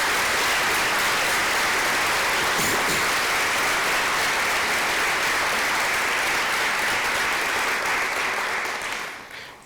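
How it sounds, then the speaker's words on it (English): Loud, sustained applause from a large audience at a community college academic and leadership awards convocation, a dense steady wash of clapping lasting several seconds before tapering off at the end. "please join me in a big round of applause"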